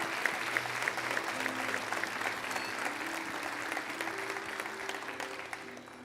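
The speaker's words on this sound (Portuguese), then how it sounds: "Pode aplaudir para o Senhor mais forte." A church congregation applauds during a sermon, a thick continuous wash of clapping that holds steady for about six seconds, with faint murmuring underneath.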